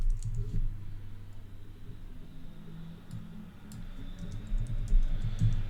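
Soft, steady typing on a computer keyboard while working in the Figma design tool, quiet rapid key clicks over low background hum with no talk.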